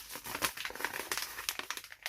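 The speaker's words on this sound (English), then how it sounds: "Peel the tape off." Packing tape is peeled off a plastic shipping mailer up close. It gives a quick, busy run of crinkling and crackling with small tearing snaps, fairly faint and with no talking.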